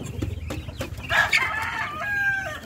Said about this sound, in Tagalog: Tingnan natin yung mga sisiw natin.